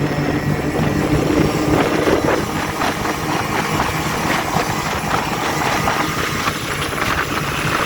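A Kymco MXU 50 quad bike fitted with a Malossi 70cc kit, Malossi 19 carburettor and Naraku variator accelerates, its small engine droning loud and steady at high revs the whole time.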